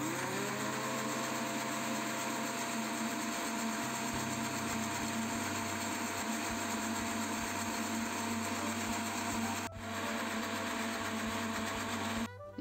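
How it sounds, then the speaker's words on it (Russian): A steady, loud motor whir runs throughout as a kitchen blender whips milk and butter together, with a brief dip near the end as it slows. "А теперь вот молоко и масло мы взобьем блендером, чтобы стала однородная текстура."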